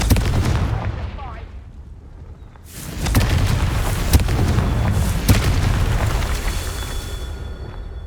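Explosive blasts from the Confringo fire spell in Hogwarts Legacy, a loud booming burst followed by a second heavier eruption around mid-clip with sharp cracks and rumbling debris.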